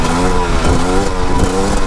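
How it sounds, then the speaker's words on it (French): A motorcycle engine revs hard and loud during a wheelie ridden without the brake. The pitch rises and falls steadily over a couple of seconds, close up, with no talking. "je vais vous faire un wheeling sans frein"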